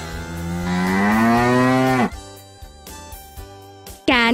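A cow gives one long, loud, close moo that rises and swells before cutting off, followed by quieter background music with another moo beginning at the end.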